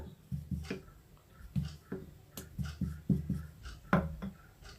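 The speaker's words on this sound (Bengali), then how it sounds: "একটুখানি ময়দার গুঁড়ো দিয়ে হালকা হাতে বেলে নেব খুব বড় করব না" A rolling pin presses flaky khasta pitha dough, dusted with flour, by hand on a board: a series of soft, close, irregular knocks and rubbing thumps about once or twice a second, with no talking.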